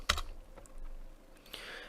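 Typing on a computer keyboard: a quiet handful of separate keystroke clicks, one sharp tap at the start and a softer one later, heard alone.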